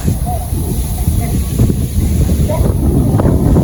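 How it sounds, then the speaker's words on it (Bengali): Strong wind buffets a village outdoor setting with loud, rumbling gusts battering the microphone throughout, and faint voices are heard underneath. "কি অবস্থা যে বাতাস খই বাতাস এবং কি ভয়ঙ্কর অবস্থা হয়েছে"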